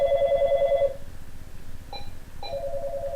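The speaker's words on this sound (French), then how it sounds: "Ça sonne, je crois." A telephone rings on an incoming line, one long steady tone followed by a pause and a short burst before the ring starts again, fairly close and clear over low background noise.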